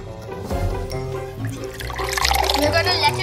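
Water pours into a cup until it brims and spills over, a trickling, splashing stream that grows brighter toward the end, heard close up.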